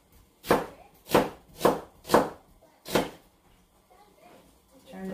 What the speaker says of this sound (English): I just flip her on the side there and keep chopping